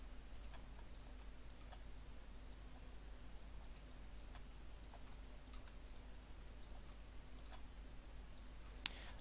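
Sparse, faint mouse clicks while selecting panel crevices in Blender, spaced irregularly over a steady low hum, with one sharper click near the end.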